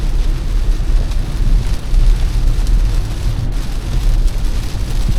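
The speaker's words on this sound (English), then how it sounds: "a little spot of heavy rain" Heavy rain pours steadily on a moving car with a dense, hissing roar over a low rumble, continuous with no pauses.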